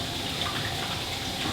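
A tap runs steadily with aquarium replacement water at 75 to 77 degrees, a loud, constant hiss of flowing water with no pauses or voices.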